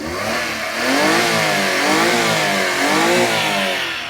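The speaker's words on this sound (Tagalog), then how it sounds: "Yung makina natin is K6A engine, 660cc, 49 horsepower." Suzuki K6A 660cc non-turbo, 12-valve timing-chain three-cylinder engine revving repeatedly, rising and falling in pitch several times, close and loud with no talk.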